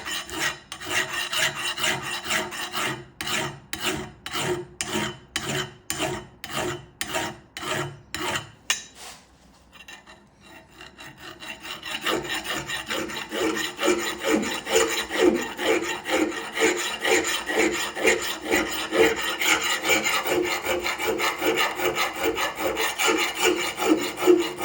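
Metal plating being cut through: about nine seconds of loud, rhythmic rasping strokes, a brief near-quiet pause, then a steadier, continuous grinding rasp that builds and stays loud to the end, with no talking.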